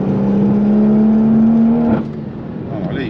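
A car climbs a hill under hard acceleration, its engine note rising steadily and loudly, then breaking off as it shifts gear and picking up again at a lower pitch, heard from inside the car.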